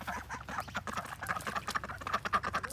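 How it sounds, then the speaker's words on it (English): Ducks quack on a farm in a dense, continuous chatter of overlapping calls, close and steady throughout, with no talking. "Hello, duckies."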